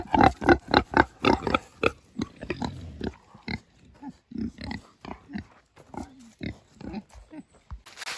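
Kunekune pigs in a pen give a run of loud, close grunts and snorts in quick bursts, then scattered shorter grunts with gaps between them.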